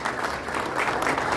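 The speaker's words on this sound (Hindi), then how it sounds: "सभी लोग खड़े होकर तालियों के साथ जोरदार तरीके से स्वागत करेंगे।" A standing audience claps loudly in welcome at the launch of a political party in Kushinagar, a brief burst of dense, continuous applause.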